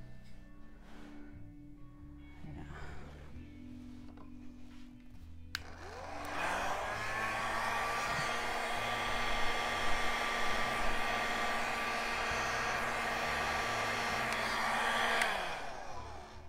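A hair dryer switches on partway through and blows steadily for about ten seconds, pushing paint across a canvas in a Dutch pour; a quiet, low background hum comes first, and then the dryer's rushing whir cuts off near the end.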